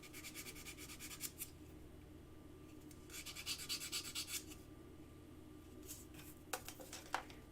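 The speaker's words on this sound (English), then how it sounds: "I'm just going to use a little bit of sandpaper" Soft, close rasping strokes of sandpaper on metal come in short bursts with pauses between them, quiet and steady.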